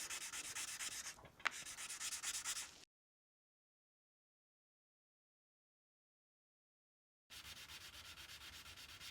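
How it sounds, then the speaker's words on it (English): Close, steady back-and-forth hand sanding of polished aluminum car door trim, broken by a few seconds of silence before the scraping resumes. "You guys know I hate sanding."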